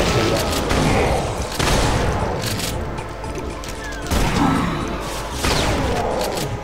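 Repeated gunfire bursts from Brutal Doom (GZDoom), loud and dense with booming impacts, recurring every second or two over a busy background.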